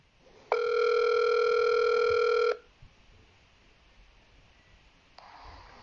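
A telephone line tone on a French-language radio call-in show sounds steadily for about two seconds, loud and clean, followed by near silence and faint room noise.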